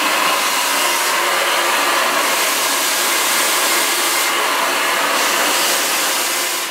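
A hair dryer blows steadily and loudly at close range while hair is dried during a classic flattop haircut, a continuous whooshing roar with slight swells as the airflow moves.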